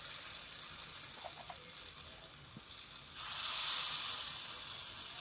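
Mango kuzhi paniyaram sizzling in a pan, a steady moderate frying hiss that swells louder in the second half, with no voices.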